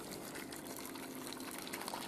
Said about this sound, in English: So I'm just going to get the boiled water from the kettle now